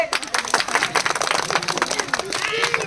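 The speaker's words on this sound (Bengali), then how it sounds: "সবাই হাততালি" A village crowd claps together for a prize game where winners get a kilo of onions and a kilo of potatoes: dense, rapid hand claps fill the whole stretch at close range, with voices mixed in.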